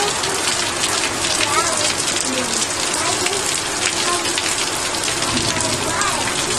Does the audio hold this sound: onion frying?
no